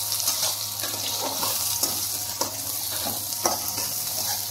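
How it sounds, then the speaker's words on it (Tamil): Onions and garlic fry in oil with a constant close hiss, broken by rhythmic scraping and clinking as they are stirred in the pan. "இந்த அளவுக்கு இது வதங்கினோடனே நம்ம வெங்காயத்தை இதில் சேர்த்து நல்லா வதக்கிக்கலாம்."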